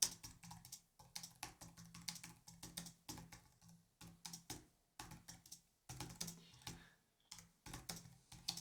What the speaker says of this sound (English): So let's type in a question now.